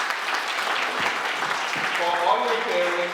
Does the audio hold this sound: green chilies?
no